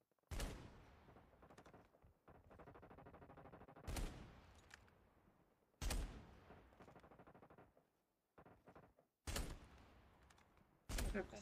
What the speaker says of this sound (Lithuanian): Visai neblogai šaudo.